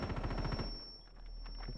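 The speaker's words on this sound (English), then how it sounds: "Pew answers back, finally takes out Jump Stream" Rapid automatic gunfire in the video game Rainbow Six Siege, a fast rattling burst lasting under a second at the start, then a quieter stretch, with a commentator talking over it.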